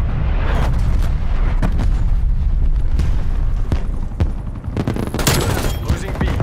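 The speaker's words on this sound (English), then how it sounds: "Artillery inbound." An artillery barrage in a war video game: dense, continuous booms and rapid gunfire layered loudly throughout, with heavier impacts swelling toward the end.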